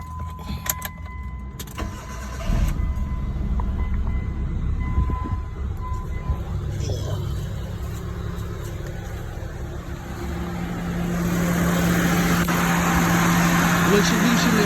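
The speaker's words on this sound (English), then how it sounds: "We'll start the car right up." A 1999 Mitsubishi Mirage with a 4G15 1.5 liter engine cranks and fires up after a distributor fix, then settles into a steady, rising idle hum, with some handling noise and clatter early on.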